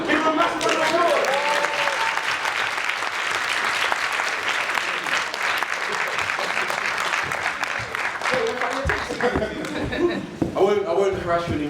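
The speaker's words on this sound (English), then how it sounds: "Give them a massive round of applause." A conference audience gives a keynote speaker's group a big round of applause, loud continuous clapping throughout, with voices and a little laughter audible at the start and again toward the end.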